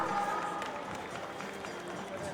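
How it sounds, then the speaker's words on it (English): A crowd at a school annual function gives a steady round of applause, sustained and fairly even throughout, with faint voices underneath. "a big round of applause"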